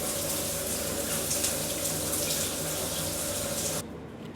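Tap running into a hotel bathroom sink in Jomtien at modest pressure, a steady close hiss of splashing water that cuts off abruptly near the end.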